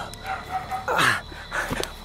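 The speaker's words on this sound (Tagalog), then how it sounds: "Bakit may aso?" A dog gives a couple of short, close barks amid some background chatter and faint bird or fowl sounds.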